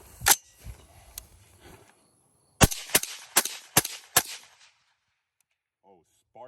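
Suppressed shots from a CMMG Banshee .308 pistol fitted with a Nomad Ti suppressor, one sharp report then a quick string of five evenly spaced loud cracks, followed by quiet.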